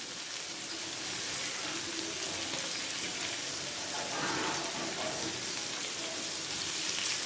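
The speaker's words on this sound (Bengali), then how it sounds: "এভাবে আমি নেড়ে চেড়ে আরও এক মিনিট ভাজি করে নিব" Chopped ridge gourd fries and is stirred in a pan, a steady, close hiss and crackle like light rain that runs unbroken for several seconds.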